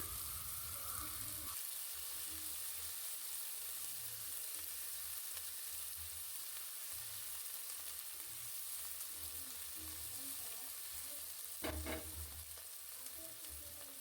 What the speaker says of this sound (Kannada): ಇವಾಗಿದು ಇದು ಚೆನ್ನಾಗಿ ಫ್ರೈ ಆಗಬೇಕು ಎಣ್ಣೆಯಲ್ಲಿ